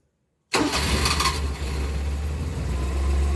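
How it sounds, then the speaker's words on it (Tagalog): A multicab engine cranks and fires after a half-second of silence, then settles into a steady, loud idle close to the microphone. "So ngayon guys ay start ko lang yung ating makina."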